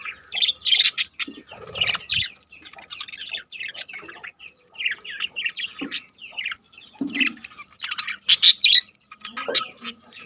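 Australian birds chirping alongside their chicks, a busy mix of high tweets and calls in quick bursts throughout, fairly close, with some lower squawks and no talk.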